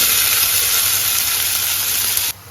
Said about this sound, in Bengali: তেল গরম হয়ে গেছে, এবার কুচনো পেঁয়াজগুলো দিয়ে দেবো।